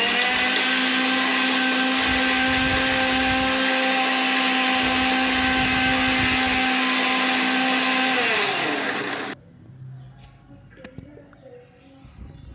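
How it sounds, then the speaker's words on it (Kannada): A kitchen blender grinds a mango milkshake with dry fruits and cardamom in a loud, steady, high whirring drone that runs for about nine seconds and then stops abruptly, leaving faint clinks and quiet room noise. "ನಂತರ ಮತ್ತೆ 1 ನಿಮಿಷ ಇದನ್ನು ಗ್ರೈಂಡ್ ಮಾಡ್ಕೊಳ್ಳೋಣ, ಯಾಕಂದರೆ ಚೆನ್ನಾಗಿ ಮಿಕ್ಸ್ ಆಗಬೇಕಲ್ವ"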